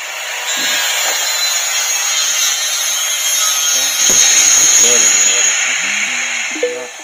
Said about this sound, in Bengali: মেশিন দিয়ে তক্তা কাটতেছে ওটার জন্য মানে শব্দ হয়েছে